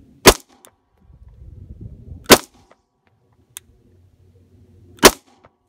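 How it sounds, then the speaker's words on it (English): Sig P320 pistol fired in the desert: three sharp, loud shots spaced a couple of seconds apart, each ending quickly, with faint rustling between them and no talking. "Just squeeze your finger and let the gun go off."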